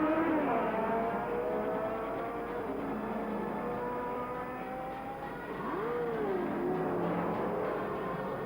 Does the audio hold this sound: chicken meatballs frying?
no